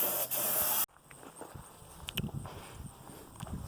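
Spray paint hissing onto a 2007 Ford F250 truck frame being painted black, in one loud, close burst under a second long, followed by faint shuffling and handling sounds.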